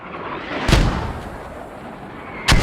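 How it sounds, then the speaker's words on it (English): Mortar rounds fire in the military video game Squad, two deep booming thumps about two seconds apart over a constant roar of battlefield ambience. "More mortars coming out."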